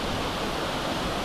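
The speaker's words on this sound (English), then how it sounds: "But today we're getting up close with this waterfall." A waterfall on the Archer Mountain trail in Washington roars as steady, broadband rushing water, heard up close and alone as a continuous, even wash of noise.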